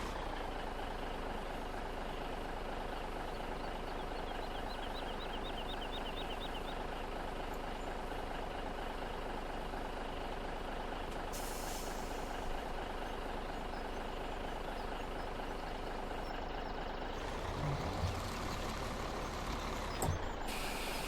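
A truck reverses a trailer in Farming Simulator 17, its engine droning loudly and steadily throughout, with a hiss of air brakes and a shift in engine tone near the end.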